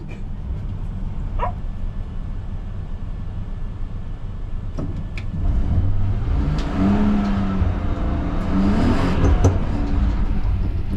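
Cars pulling away from the start at a slippery winter time attack on the Nemuno žiedas circuit, engines swelling louder midway, with a dog barking and yipping nearby over the distant motor noise.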